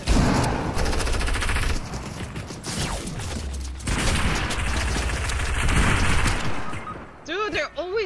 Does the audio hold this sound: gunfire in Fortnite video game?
yes